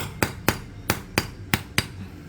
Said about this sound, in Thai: แล้วก็ค่อยๆใช้ค้อน เคาะ เพื่อให้มัน ให้มันตรงก่อนนะครับ